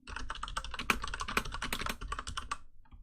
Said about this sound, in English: the actual banging of the keyboard as it hits the bottom of the travel